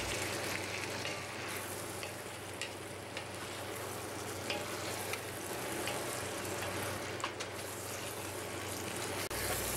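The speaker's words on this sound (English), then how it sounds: "we just have to stir everything now until the onions are softened" Sausage, bacon and onions stir-frying in a cast iron pot for jambalaya give a dense, continuous sizzle with scattered spoon scrapes and light clicks against the iron throughout, close and steady, with no voices.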